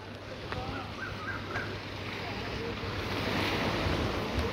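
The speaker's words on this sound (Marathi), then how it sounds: "तर आता आम्ही उरण बीचला आलो आहे. आता भरती आज" High-tide sea waves washing steadily onto Uran beach, a broad continuous surf roar with gusty wind buffeting the microphone and a low hum underneath, swelling slightly toward the end.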